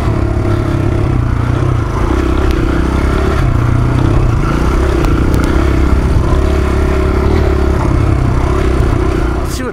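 A dirt bike rides through whoops, its engine droning loud and close with rising and falling revs under steady clatter and rattling from the rough ground.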